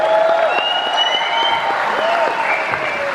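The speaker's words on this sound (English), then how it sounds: "round of applause for John Ortman" A room full of people applauds John Ortman during a Quadrophenia Experience Q&A, steady dense clapping at close range with a few faint voices mixed in.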